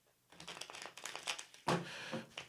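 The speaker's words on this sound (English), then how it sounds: "these cards are hard to shuffle" Hand shuffling of a stiff deck of playing cards during a tarot-style psychic reading: a run of quick riffling, crackling card flutters, growing louder near the end, with no talking.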